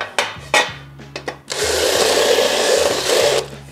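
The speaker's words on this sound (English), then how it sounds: "countersink goes in the drill, and you can roll this around. Takes off all those burrs" A drill with a countersink bit deburring a drilled hole in metal for a Honda Shadow bobber rear fender: a few short clicks and bursts, then a steady close whirring grind for about two seconds before it winds down.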